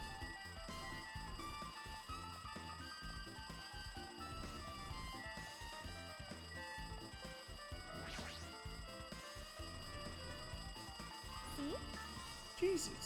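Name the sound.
telephone ringing like an alarm, Danganronpa 2 video game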